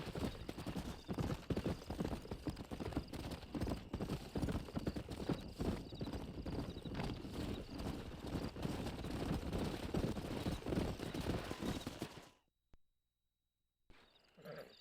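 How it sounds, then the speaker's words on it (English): Horses gallop with steady, close clip-clopping hooves in the Red Dead Redemption video game, a loud continuous rhythm for about twelve seconds before it cuts out abruptly, then a brief return at the end. "We got some fine horses."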